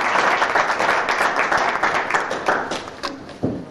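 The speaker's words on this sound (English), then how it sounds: "let's give Gary a round of applause" Audience at a small-town beard contest breaks into steady, dense applause with scattered claps and a few whoops, loud and close, tapering slightly near the end.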